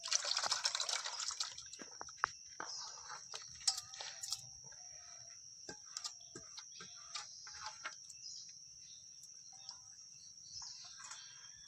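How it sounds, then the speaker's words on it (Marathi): Wet stirring as a ground paste is mixed into jaggery water, with small drips, splashes and clicks of a utensil against a vessel, close by, no talking. "आता ह्या वाटलाला ना गुळाच्या पाण्यात मिक्स करूया"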